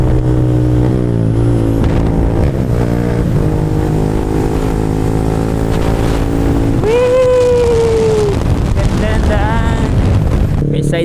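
A Yamaha Sniper 155 motorcycle fitted with an open-pipe exhaust drones steadily during a dirt ride, then revs up sharply with a rising whine before settling back into a loud, rough engine roar.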